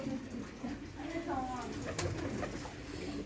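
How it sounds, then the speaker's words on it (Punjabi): Pigeons for sale coo softly at close range in a loft, a steady low murmur of calls running throughout with someone talking over them. "ਇਹਨਾਂ ਦੇ ਵਿੱਚ ਕੁਝ ਕਬੂਤਰ ਵੱਡੇ ਆ ਬਾਈ"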